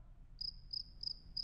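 A cricket chirping in the Spanish-dubbed animated series The Cyanide & Happiness Show: four short, evenly spaced high-pitched chirps, clear and close against near silence.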